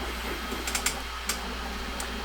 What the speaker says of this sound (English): My printer's actually going right now.